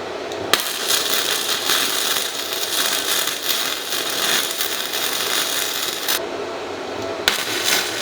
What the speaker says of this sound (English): so now I'm just gonna throw some better welds on here